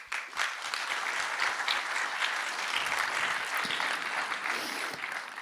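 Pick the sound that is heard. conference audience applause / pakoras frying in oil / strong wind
conference audience applause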